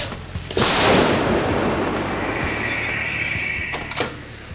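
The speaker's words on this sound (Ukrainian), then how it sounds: "Армата! Постріл!" A self-propelled howitzer fires a single loud blast that hits sharply, then rolls into a long rumbling echo and crackling decay, with a few faint mechanical clanks near the end.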